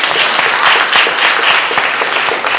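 A crowd applauds steadily, many hands clapping together in a dense, continuous burst that holds at the same loudness throughout.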